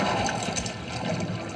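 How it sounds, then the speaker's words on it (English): A recorded water sound effect, layered into a mix, plays as a dense, steady gurgling and sloshing wash of liquid, close and continuous for a moment. "Here's water"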